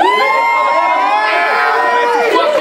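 Crowd at a $300 rap battle cheering and whooping, a dense, loud, sustained roar of voices with high shouts layered on top and no break across the stretch.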